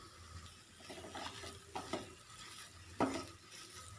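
A potato and bread snack filling is stirred in a pan with a spoon, producing soft scraping and a few sharper clinks against the metal, faint and close, with a light sizzle underneath.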